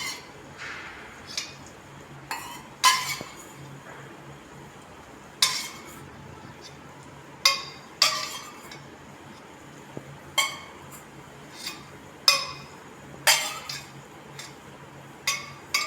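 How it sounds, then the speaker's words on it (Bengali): A spoon clinks against a bowl again and again as boiled carrot is stirred into whipped yogurt, giving irregular sharp taps over a quiet background. "গাজরটা মিশিয়ে নিচ্ছি ফেটানো দইয়ের মধ্যে।"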